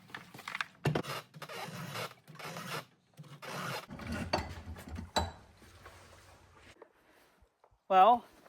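A file drawn across a chainsaw chain with a 2-in-1 sharpening file, repeated rasping strokes in short bursts, close up, with someone talking between strokes and a brief squeak near the end.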